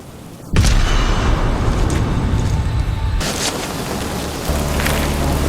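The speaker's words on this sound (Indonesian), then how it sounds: "Sebuah ledakan baru menghantam wilayah itu" A film explosion bursts in abruptly and loudly, followed by a long, rumbling roar of debris. A second heavy blast cuts in a few seconds later and leaves a sustained, noisy rumble.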